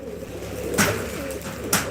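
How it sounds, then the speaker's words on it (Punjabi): Pigeons in a loft give two soft, muffled coos over a low background hum, heard fairly close. "ਬਾਈ ਇਹ ਦੇਖੋ ਕਬੂਤਰ ਬਾਈ ਦੇ ਨਰ ਨੇ ਸਾਰੇ ਦੇ ਸਾਰੇ"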